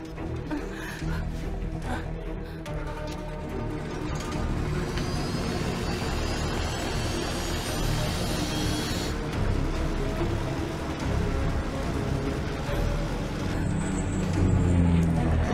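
An airplane engine roars loud and steady as the plane takes off in an action film scene, with a high whine sweeping upward partway through.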